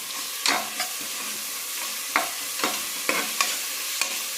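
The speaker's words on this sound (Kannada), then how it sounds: "ಮೆಂತ್ಯ ಸೊಪ್ಪು ಹಾಕ್ಕೊಳ್ಳಿ ಯಾಕಂದರೆ ಚೆನ್ನಾಗಿ ಎಣ್ಣೆಯಲ್ಲಿ ಫ್ರೈ ಆಗಬೇಕು" Fenugreek leaves fry in oil for a pulao, a low sizzle broken by several sharp stirring scrapes and knocks of a spatula against the pan, spaced irregularly and close.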